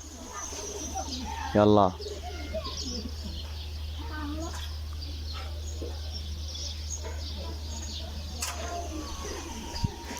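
Pigeons coo softly at a loft amid a steady low hum, with scattered chirps and a brief loud burst near the start; someone speaks a word or two.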